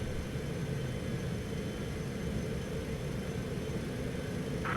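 A Citation X jet in the VATSIM flight simulator at takeoff roll and rotation: a steady, loud broadband engine roar with a low rumble, unbroken and constant throughout.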